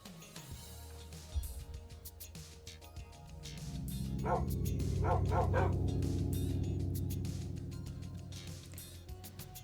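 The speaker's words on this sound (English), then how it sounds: "Puppy dog." A dog-bark sound button played during a Minecraft Bedrock game, giving a run of quick, fairly close yips and bow-wows that cluster in the middle and fade, with no talking over them.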